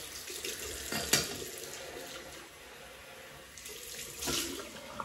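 Cold tap water runs and splashes close by for a shaving rinse, swelling in two brief louder bursts, with no talking.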